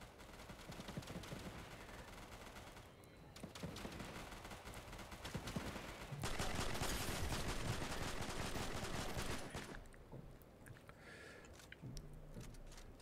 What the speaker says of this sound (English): they're shooting at that thing.